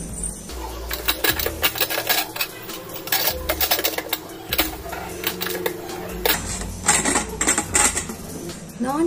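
Metal cookware handled in a home kitchen while cooking tomato biryani, a lid set onto a pot and a pressure cooker gasket fitted, giving repeated clinks, clatters and scraping knocks close by, with busy rattling throughout.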